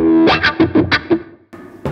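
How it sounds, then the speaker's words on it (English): An electric guitar played through a wah pedal sounds a quick series of distorted, sweeping notes, then pauses before one more note rings out. "would you give us some traditional wah sounds first?"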